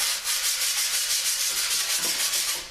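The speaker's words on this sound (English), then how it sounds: "Just gonna want to scrape it down" Grip tape being scraped along the edges of a skateboard deck, a steady close, loud rasping rub that continues without a break and swells slightly near the end.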